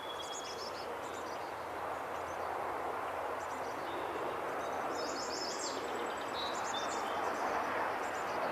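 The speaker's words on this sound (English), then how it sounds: "Another chickadee's nearby." Chickadee calls close by, short bright chirps repeating several times over steady outdoor background hiss.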